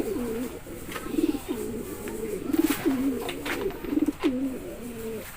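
Pigeons cooing repeatedly inside a pigeon loft, a steady series of low, throaty rolling coos from several birds close by, with faint clicks and rustles in the background.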